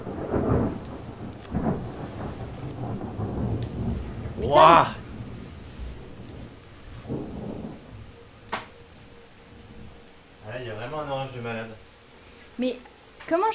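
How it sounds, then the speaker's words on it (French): A thunderstorm in the video game Zelda Twilight Princess, with soft rain and rolling thunder heard faintly under people talking and reacting, plus a few brief clinks. "Est-ce que vous entendez les éclairs"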